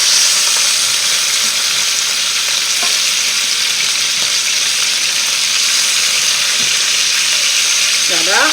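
Chicken pieces for a coconut curry dish sizzle steadily in a hot pan, a loud, even frying hiss that carries on without a break, with a few faint clinks near the end.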